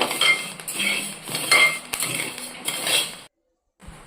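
A spoon scrapes and clinks against a thick-bottomed pan as rice is stirred and roasted, quick repeated strokes close up for about three seconds before stopping.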